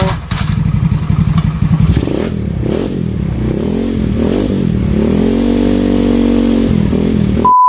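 A motorcycle engine, previously flood-submerged, clatters, then catches and settles into a steady, rumbling idle close by, running continuously to the end.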